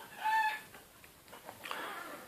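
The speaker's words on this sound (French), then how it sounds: "désolé pour les poules qui crient dehors" Chickens squawk outdoors, with a short, sharp cluck near the start followed by fainter, scattered clucks and rustling, all fairly distant and quiet.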